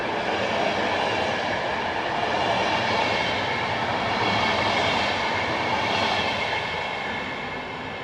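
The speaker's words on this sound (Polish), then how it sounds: "Punktualnie odjeżdża pociąg piątrowy Wiedenka do Skierniewic między innymi przez Żyrardów." A double-decker Wiedenka passenger train pulls out of Warszawa Zachodnia station, bound for Skierniewice via Żyrardów. It rumbles steadily and loudly with rolling wheel and carriage noise, swelling and easing slightly as it moves off.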